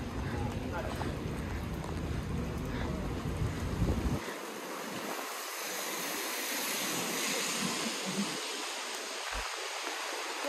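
Strong wind buffeting the microphone during rain, a roaring rush that eases partway through into a breezy hiss over open water.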